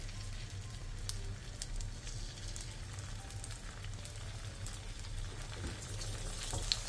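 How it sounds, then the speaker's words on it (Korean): Soft tofu fries in oil in a pan over medium-low heat, giving a quiet, steady sizzle with a low hum underneath and small crackles scattered throughout. "팬에 기름을 두른 뒤 순두부를 넣고 중약불에서 앞뒤로 노릇노릇하게 부쳐주세요"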